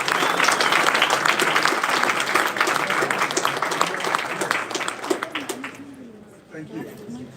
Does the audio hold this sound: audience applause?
yes